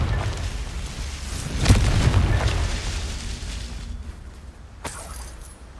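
Confringo fire spell blasts in Hogwarts Legacy, a booming explosive burst with a heavy low rumble near the middle and a sharp crack near the end, over steady game ambience.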